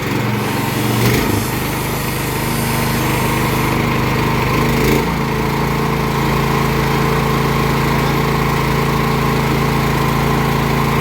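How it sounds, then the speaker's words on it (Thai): A small engine revs hard and holds at full throttle, a loud, continuous buzzing drone with a steady high whine and a slight dip in pitch early on, close and unbroken. "เร่งเครื่องไปให้สุดเลยครับ"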